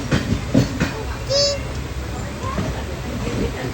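A Janshatabdi passenger train rumbles past close by, a continuous noisy roar with a few faint high squeals, while people, including a small child, talk over it.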